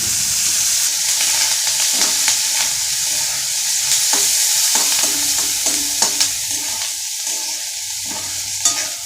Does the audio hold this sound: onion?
yes